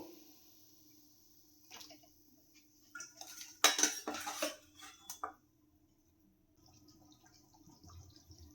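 Hilsa fish and eggplant pieces go into a simmering pot of curry, a short burst of clinking utensil and pot clatter with soft splashes, surrounded by quiet.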